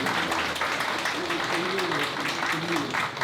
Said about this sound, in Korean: 큰 박수 부탁드리며